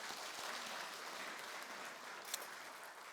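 Congregation applause in a church during a Sunday service, a steady dense wash of clapping lasting the whole stretch at moderate distance, with no talking over it.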